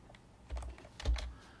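Keys on a computer keyboard are tapped close by in a couple of short bursts of crisp keystrokes, with no voices and only a quiet room behind.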